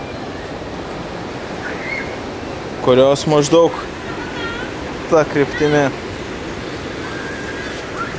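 Ocean surf rolls onto an Indonesian beach on the open ocean south of Java, a steady close wash of waves that runs unbroken while two short bursts of talk rise over it.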